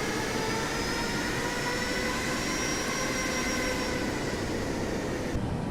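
Boeing 737 Max engines in Microsoft Flight Simulator give a steady jet roar with a high whine and rising tonal hum, continuous throughout.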